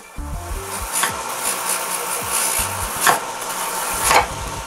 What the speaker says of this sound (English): the final sanding is done with a pneumatic drum